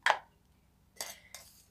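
Spoon knocking against a clay bowl while adding an ingredient for a home remedy: three short, sharp clinks, the first strongest, close and isolated in a quiet room.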